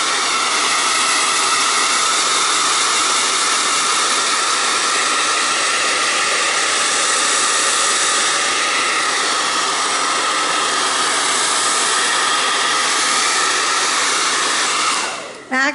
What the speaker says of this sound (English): I'm talking while the dryer is on